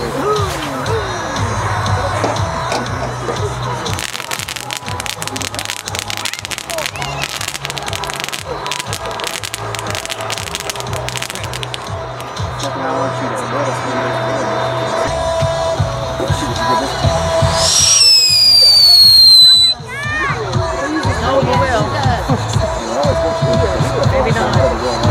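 Spirit of 76 fireworks tank cake, 40 packs of 3, fired at a daytime demo: a long run of rapid crackling bursts and pops outdoors, then whistling rising shots near the end, with crowd chatter throughout.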